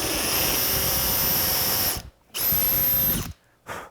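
A power drill boring a pilot hole into plywood runs loud and close in two whining bursts, each cut off abruptly, with a brief third start at the end.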